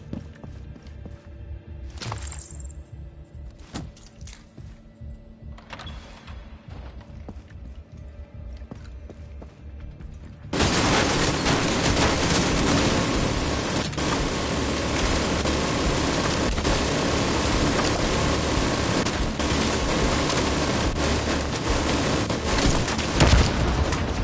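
An ammo stockpile detonates in the video game Division 2. Quiet game ambience with a few small knocks gives way to a sudden loud blast, followed by a long, steady roar of burning and rumble that lasts to the end.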